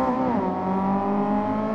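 A Honda Civic engine in the Gran Turismo racing game sits bouncing on its rev limiter, a loud, steady high-pitched buzzing drone with a slight dip in pitch early on.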